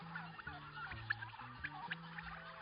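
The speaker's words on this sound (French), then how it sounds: "les milliers de pintades, de poulets et de dindes n'hésitent d'ailleurs pas à se faire entendre" Thousands of free-range guinea fowl, chickens and turkeys calling on a farm, a dense mix of gobbles, honks and clucks overlapping in irregular bursts, moderately close.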